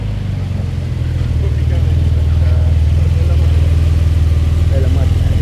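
A Porsche with a 2000 number plate on a Monaco street at night, its engine a steady low rumble that swells slightly as it passes nearby, with constant background noise throughout.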